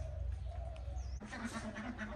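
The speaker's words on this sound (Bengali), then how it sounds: "আমার হাঁস চিল্লাপাল্লা করতেছে" Ducks quack faintly in the distance on a foggy morning, a scattered outdoor chorus with a soft rustle underneath.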